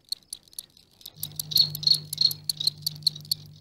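Male field cricket courtship song: a series of soft, rapid metallic clicks and chirps in irregular bursts, close up, with a low steady hum entering partway through and no speech.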